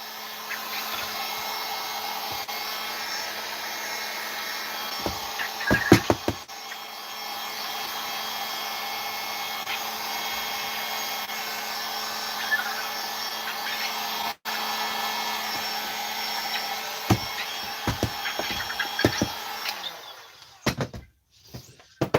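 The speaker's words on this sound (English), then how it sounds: "you want to get the heat gun, and you literally want to start heat gunning stuff" A heat gun blows hot air in a continuous, steady whooshing drone for most of the span, with a few handling clicks and knocks, cutting off near the end.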